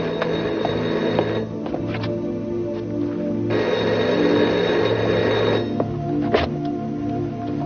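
A telephone bell rings in repeated bursts with short pauses between them. It is close and fairly loud against a steady background hum.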